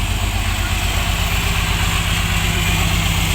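A truck engine hauling a backhoe on a trailer gives a loud, steady, close rumble with a fast low throb, holding constant for about three seconds and never rising, with nobody speaking.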